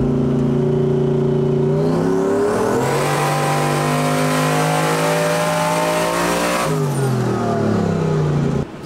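Boosted Ford Coyote V8 swapped into a Foxbody Mustang, revving hard on a dyno pull, rising steadily in pitch through the gears-like sweep, holding a loud sustained scream near the top, then dropping off as the throttle closes.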